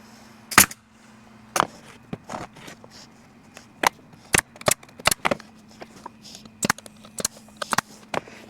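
Staple gun firing staples into a wooden swarm trap box, about a dozen sharp, close snaps spaced irregularly over several seconds against a faint steady hum, with no talk.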